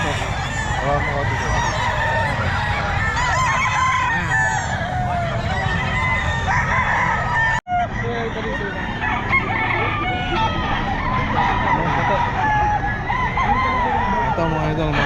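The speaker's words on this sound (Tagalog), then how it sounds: "mga manok ni Boss Joey." Several roosters crow loudly and repeatedly at the Bocaue pet market, overlapping one another with clucking fowl around them, continuing throughout.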